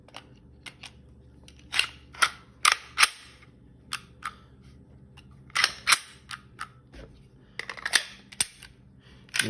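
A Smith and Wesson SD40VE pistol is handled and put back together, giving a series of sharp, close metallic clicks and snaps at irregular intervals with quiet pauses between them.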